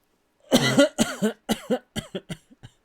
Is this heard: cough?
yes